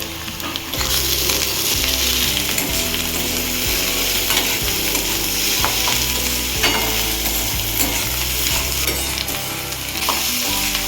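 Momo filling frying in a pan while being stirred, a continuous hiss of sizzling with repeated scraping strokes of the spoon, close and steady.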